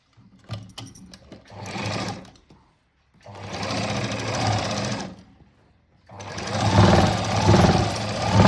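A sewing machine stitches a 1.5-inch strip along the edge of a cut-work blouse in three steady bursts, with a few short clicks before the first run.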